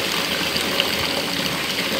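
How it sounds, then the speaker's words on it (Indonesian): Water pours steadily from a stone spout at an old mosque's ablution pool, a constant broadband rush close by with no pauses. "ini pancuran yang keempat"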